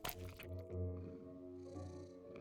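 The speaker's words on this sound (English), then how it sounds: "cat starts to purr right away. It's a very silent purr, but the purr ramps up." A house cat purrs softly and steadily, a low rumbling drone that swells slightly in strength, close but quiet with no talk.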